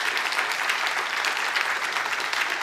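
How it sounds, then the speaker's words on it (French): Applause from a conference audience in French-speaking Québec, a dense, steady wash of many hands clapping, moderately distant and sustained without pause. "Je pense qu'ils et elles méritent nos applaudissements."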